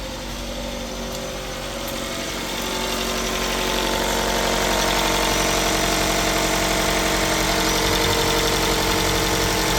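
A 2015 Chrysler 200 engine idles after sitting parked for over a year, a steady close-up rumble with a slight roughness that swells a little louder early on and then holds constant, with no one talking.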